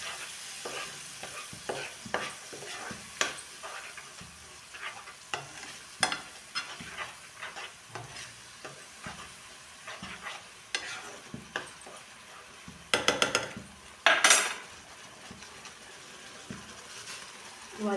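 Gobi palya, a cauliflower dish, being stirred as it fries in a pan: repeated scraping strokes over a steady sizzle, with a louder burst of clattering stirring near the end and no talking.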